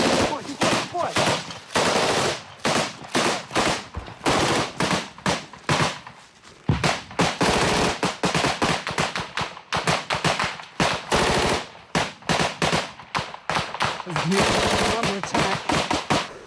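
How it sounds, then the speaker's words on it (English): Close-quarters machine-gun fire rattles in repeated sharp bursts over about sixteen seconds, loud and near, with brief pauses between volleys and some voices mixed in. "A grenade's fired into the tree line from where the Russians were firing"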